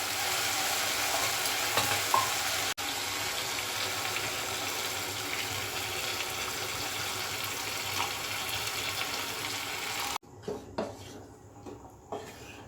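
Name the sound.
water added to sizzling frying curry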